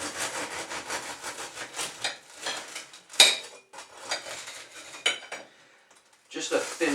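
A dull knife saws back and forth through a loaf of French bread from a bread machine, rough rasping strokes with brief pauses and a sharp clink of the blade midway.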